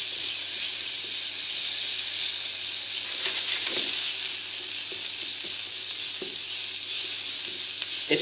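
Onions sizzle steadily in a pan still greasy from cooked bacon, a loud, continuous hiss with a few faint spoon scrapes and pops, and no talking.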